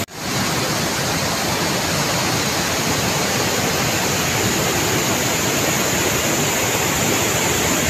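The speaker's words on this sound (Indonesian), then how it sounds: "air terjun di Sungai Cipamingkis ini mirip seperti air terjun Niagara" Waterfall on the Cipamingkis River near Cadas Panjang, Jonggol, roaring as a steady, dense broadband rush of falling water that stays loud and unchanging throughout, with no voices.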